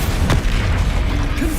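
A Bombarda spell blast in Hogwarts Legacy: one sharp booming burst early on over a dense, continuous battle rumble, loud and close, with shouted spell names around it.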